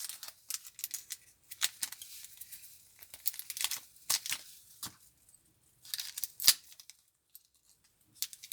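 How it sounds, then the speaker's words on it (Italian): A small plastic bag of screws is rubbed open between thumb and forefinger, giving a run of close, crisp crinkling and rustling bursts with brief pauses between them and no talking. "Apriamo il sacchetto in maniera molto semplice, pollice e indice, sfregamento e via"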